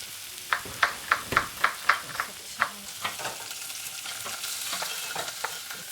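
Onions fry in a pan with a steady sizzle, while a spoon or spatula scrapes and taps the pan in a quick, regular series of clicks in the first half before the sizzle carries on alone.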